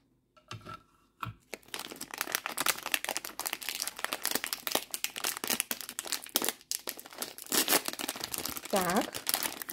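Crinkly plastic wrapper of a sugar-free low-carb choco pie being torn open, close and loud, with busy crackling rustles throughout and a brief voice near the end.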